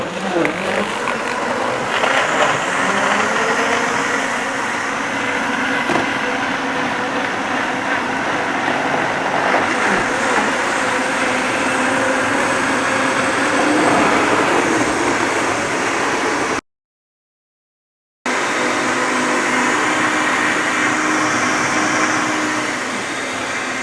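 High-speed blender running a soup program, a loud continuous motor whine and churning roar that holds steady for long stretches, broken by a brief silent gap before resuming.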